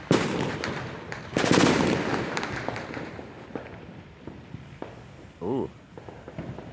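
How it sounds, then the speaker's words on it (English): Fourth of July fireworks in Fullerton, California crackle and pop in a dense burst of sharp bangs, some near and some distant, with people talking and exclaiming throughout. "This is like highly illegal, these fireworks."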